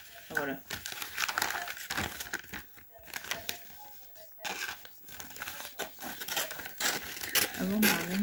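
Sticky tape and wrapping are handled up close, with repeated crinkling, tearing and crumpling in irregular bursts, while someone speaks French intermittently.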